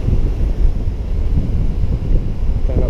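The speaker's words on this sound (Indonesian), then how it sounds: "Anginnya bos, kencang banget bos." Strong wind roars across a south-coast beach during shore fishing where big waves are running, a continuous low buffeting rumble hitting the microphone for the whole stretch with no voices.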